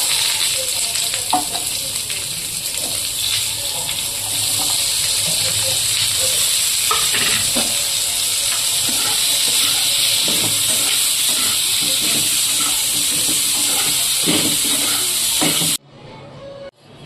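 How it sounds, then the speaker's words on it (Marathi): Onion, tomato, ginger and garlic fry in oil for paneer bhaji, giving a loud, continuous hissing sizzle with intermittent stirring clinks and scrapes, close up and without talk, before cutting abruptly to near silence at the end. "हे आता कांदा, टोमॅटो, अद्रक, लसूण हे सगळं परतून घेऊया।"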